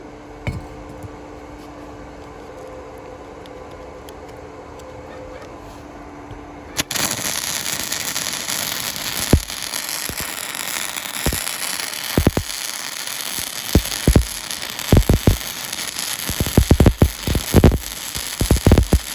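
Flux core wire welding with a Titanium Flux Core 125, a 110-volt Harbor Freight welder, laying a bead with a forward-and-back oscillating motion. After a quiet stretch a loud, steady crackling hiss starts and runs to the end, broken by sharp pops and spatter.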